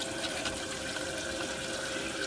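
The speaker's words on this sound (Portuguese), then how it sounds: "Vou esperar a água descer aqui um minutinho pra ela esquentar" Water runs steadily from a tap while it is left to warm up, a continuous even hiss at moderate distance with no talking.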